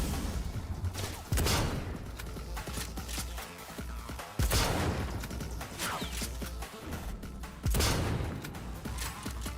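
Gunfire rings out during a sniper battle in the video game Cyberpunk, with three heavy, loud shots spaced several seconds apart over a busy clatter of smaller impacts and mechanical noise.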